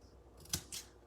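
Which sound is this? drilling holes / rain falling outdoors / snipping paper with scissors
snipping paper with scissors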